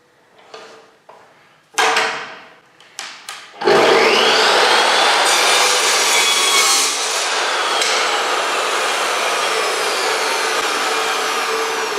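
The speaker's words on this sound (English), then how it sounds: "cutting a piece of angle iron, just a solo piece of angle iron, at a 90-degree angle" Metal cutoff saw cuts a single piece of angle iron clamped in a vise at 90 degrees. A few clanks and brief motor bursts lead into a loud, sustained, close abrasive whine that continues to the end.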